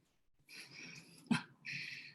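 A dog whimpers faintly in the background of an online low-impact workout class, with thin, high whines in two stretches broken by a brief snort or sneeze.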